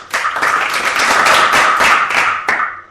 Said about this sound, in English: we're English and polite, and that's how we'd clap a spectacular film